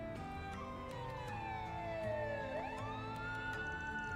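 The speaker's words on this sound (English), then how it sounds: "A police siren?" A police siren in the video game The Legend of Heroes: Trails Through Daybreak II wails, its pitch sliding down then sweeping back up, fairly faint and distant over a constant low rumble.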